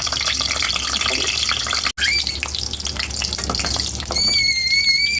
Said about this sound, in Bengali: আমি কড়াতে তেল দিয়ে দেবো, বেগুন আর টমেটোটাকে একটুখানি ভেজে নেব।